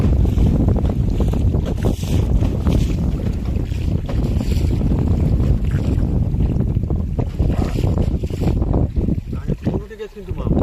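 Strong storm wind buffets a microphone aboard a small fishing boat on a river, a loud continuous roar with gusty rumbling and water noise beneath.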